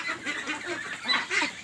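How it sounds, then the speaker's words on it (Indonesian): Broiler ducks quack and honk in a dry-floored pen, a close, busy chorus of overlapping calls with louder bursts toward the end. "Ini bebek pedaging saya"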